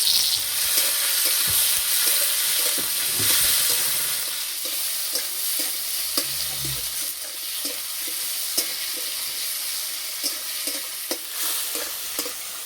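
Onion and tomato frying in hot oil in a wok for a spinach and egg curry; a loud, dense sizzle settles into a steadier hiss, punctuated by regular spatula clicks and scrapes as the mixture is stirred.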